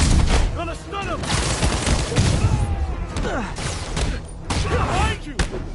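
Gunfire in a Spider-Man video game, with bursts of shots and thuds running through the whole stretch, mixed with game voices calling out over the action.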